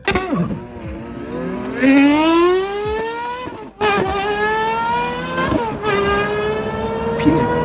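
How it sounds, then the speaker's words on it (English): Naturally aspirated V12 of a Gordon Murray T.50 revving hard, pitch climbing steeply through repeated sweeps with brief drops between gear changes, loud and close. "it's got the highest revving, naturally aspirated V12 on earth"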